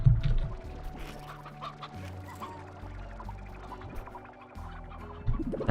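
Chickens in the video game Slime Rancher cluck softly and repeatedly over a low droning background, with scattered short clucks through the whole stretch and no speech.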